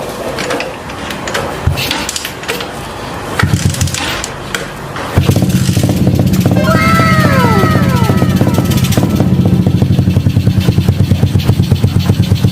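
A motorcycle with a faulty CDI, rewired with a converted setup, gives a few rough turnover noises and then catches. It settles into a loud, steady, rapid-pulsing run close by.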